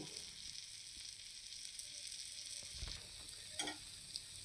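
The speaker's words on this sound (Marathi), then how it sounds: "असा डोसा भाजायला लागला तवा फिरवून आपल्याला डोसा सोनेरी रंगावर भाजून घ्यायचा आहे" A rava paper dosa roasting on a tawa over very low gas gives a soft, steady sizzle, quiet and close, with a few faint scrapes and clicks near the end.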